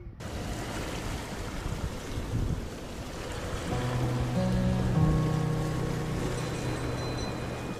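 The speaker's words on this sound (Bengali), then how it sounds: "ঠান্ডা ঠান্ডা অনেক কিন্তু হাওয়াও বইছে এদিকে" Cold wind sweeps past the Debaipur Bridge over the Bhairab River: a steady, broad rushing hiss that swells slightly midway, with a faint low tonal hum joining in the second half.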